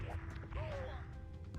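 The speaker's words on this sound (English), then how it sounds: "The sound of boulders crashing around me is kind of" Boulders crash and tumble in a Super Mario 64 mod reworked in the style of Dark Souls, producing a loud, continuous rumbling of heavy impacts with a faint tonal game sound running underneath.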